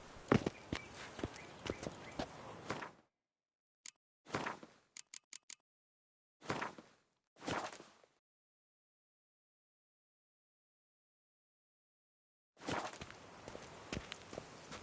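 Roach, a horse in The Witcher 3, walks and runs with bursts of hoof clip-clops separated by stretches of dead silence, the last burst returning loud and close.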